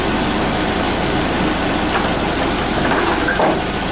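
A Volvo 240 engine idling on gas after a radiator replacement, a steady, close, continuous rumble with even low-frequency chugging and no pauses.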